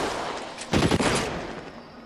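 A short, loud burst of rapid gunfire in L.A. Noire cracks out in a dense volley lasting about half a second, standing out above a steady background rumble.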